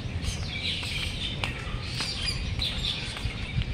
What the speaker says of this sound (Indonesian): Banyak burung yang berkicau.